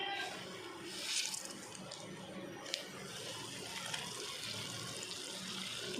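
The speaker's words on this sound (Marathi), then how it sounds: "सर्व पाणी काढून घ्यायचं, पूर्ण पाणी असं काढून घ्यायचं।" Soaked soybean chunks for a soybean masala curry are pressed by hand to drain the water, giving close, uneven trickling and splashing with a few sharper spatters.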